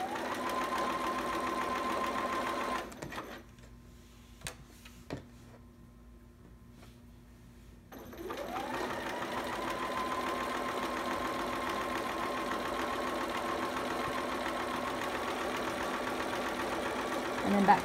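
A sewing machine runs along a seam while hemming a romper, with a steady motor whir, a pause of several seconds with a few clicks, then continuous stitching again until the end.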